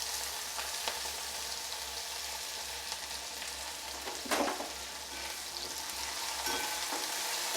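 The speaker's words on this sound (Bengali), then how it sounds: "এবার আমি এর মধ্যে দিয়ে দেবো একটা বড় সাইজের পেঁয়াজ কুচিয়ে" A large chopped onion fries in a pan for dal with spinach, crackling in a continuous close sizzle, with one brief louder scrape of stirring midway and no voices.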